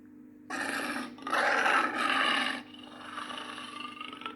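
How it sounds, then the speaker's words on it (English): A lion's roar played as an animal sound, rising into a deep, rasping bellow that swells and then trails off into a lower growl, over a faint steady hum. "lion."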